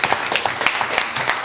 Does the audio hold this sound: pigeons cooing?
no